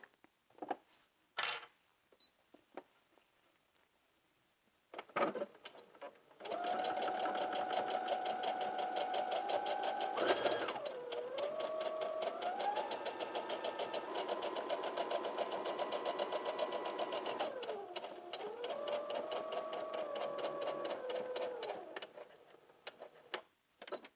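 A sewing machine stitches a seam for a McCall's 7906 garment, running in a long steady burst with its motor pitch dipping and rising as speed changes, preceded by a few sharp clicks and quiet handling noises.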